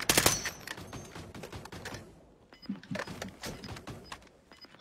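Bursts of automatic gunfire in the video game Warzone, several sharp volleys with rapid cracks, loud at first then recurring at varied distances with short gaps between.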